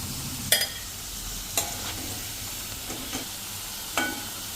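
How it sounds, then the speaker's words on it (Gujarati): Potato slices frying in oil over a medium flame, a soft steady sizzle broken by a few sharp clinks of a utensil against the pan, fairly quiet and with no voices. "સોફ્ટ થાય ને ત્યાં સુધી ફ્રાય કરશું."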